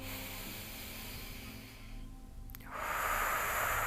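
A person breathes out through a slightly open mouth, a soft, airy exhale from the throat, followed after a short pause by a louder, breathy hiss of air close to the listener.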